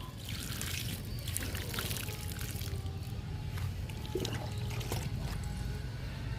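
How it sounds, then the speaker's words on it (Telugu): Water pours steadily onto young drumstick (moringa) plants in buckets filled with grass and soil, a continuous close trickling and splashing that runs unbroken throughout. "మునగ మొక్కలకి వాటర్ ఇచ్చేస్తున్నాను"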